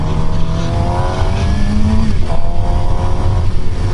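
Inline-four engine of a 2015 Suzuki GSX-R750 sport bike revving on a test ride, a steady close engine drone with rising and falling harmonic tones throughout, no talking.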